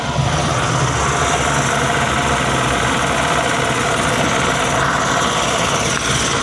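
A rebuilt 75hp Yamaha outboard, uprated to 90hp, runs at a steady, loud idle with an even mechanical chatter throughout and no talk.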